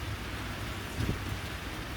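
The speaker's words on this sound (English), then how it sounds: "Rain hitting the water, hitting this tin roof." Rain pours steadily onto bayou water and a tin roof, a close, continuous dense patter with no voices.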